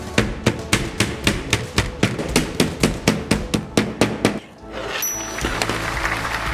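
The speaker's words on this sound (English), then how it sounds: "Insert these silicone strips and hammer them into place." Silicone strips are hammered into a print frame with a rapid, regular series of about twenty sharp, close knocks, then the hammering stops and a quieter rustling follows.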